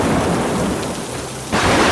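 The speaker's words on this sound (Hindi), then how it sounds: "बारिश शुरू हो गई।" Heavy rain pours steadily as a dense, loud wash in a story sound effect, with a deep rumble of thunder underneath and a sudden surge of downpour near the end.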